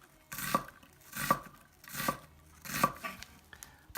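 A knife dicing an onion on a cutting board, four evenly spaced crisp chops roughly every three-quarters of a second, close and moderately loud with no talking.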